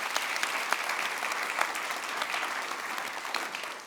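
An audience at a rural access-to-justice event applauds its speakers and panelists, a dense, even wash of clapping from many hands that holds steady from start to finish with no voices over it.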